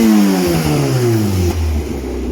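A banger racing car engine revs hard up close, its loud growl falling in pitch as the revs drop away, then settling to a rough, lower note.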